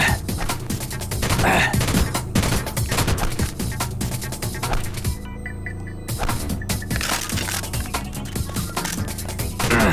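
Loud, dense game combat from Deus Ex: The Nameless Mod, with rapid overlapping shots and impacts filling the scene as a dart gun is fired, broken by a brief near-silent gap midway before the clatter resumes.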